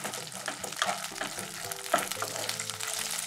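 Peanuts and green chillies fry in oil for a coconut-peanut chutney, giving a steady close crackling sizzle with scraping and stirring clatter and a low background hum throughout.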